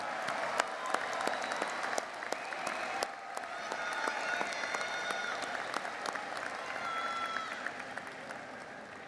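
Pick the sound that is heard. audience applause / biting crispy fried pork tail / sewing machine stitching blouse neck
audience applause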